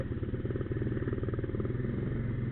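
A small 50cc ATV engine runs steadily during a slow ride through the bush, with a buzzy, rapid, even putter that stays close and fairly loud throughout, with no talking over it.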